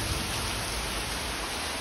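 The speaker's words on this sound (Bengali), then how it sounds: "হঠাৎ করে বৃষ্টি হতে হতে এমন বৃষ্টি হচ্ছে দেখো, পুরো সাদা হয়ে গেছে চারিদিক।" Heavy sudden rain falling as a dense, even, steady roar of broadband hiss, loud and unbroken for the whole moment, with no voices.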